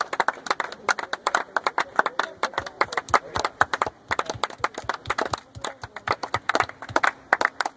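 Audience members at a colony sports event clap in a sharp, brisk patter, many hands striking in quick irregular bursts, close and lively, with no voices.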